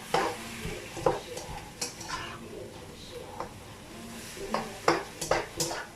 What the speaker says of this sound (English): Give it a stir around and see what the situation is